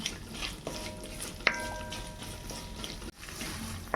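Garlic and other pickle ingredients for a watermelon rind pickle sauté in a pan over a medium flame, with a soft continuous sizzle, stirring scrapes and a few sharp utensil clinks against the pan.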